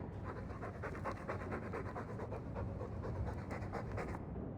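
A dog in Dragon Age 2 pants rapidly and evenly, quick rhythmic breaths carrying on without pause, heard close but at a quiet level, with no voices.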